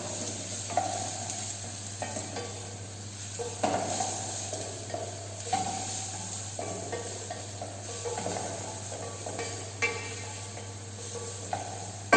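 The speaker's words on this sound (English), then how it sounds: "then you can add little chopped onion, not much, little." Chopped onion frying in hot oil in a pan of green palak gravy base, a soft steady sizzle with occasional stirring scrapes, moderately quiet, no talking.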